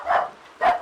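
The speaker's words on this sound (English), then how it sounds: "You hear a dog barking." A Shetland sheepdog barks twice, each a short, clear bark about half a second apart, close by and on its own.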